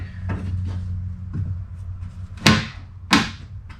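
A big plastic pry tool forcing a tail light part back into place on a Jeep WJ, heard as several low thuds and knocks followed by two sharp, loud snapping clacks near the end, close by with no talking.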